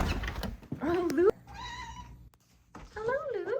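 A house cat meows twice, loud and close, with rising and wavering cries separated by a brief pause, and a person talks softly between the meows.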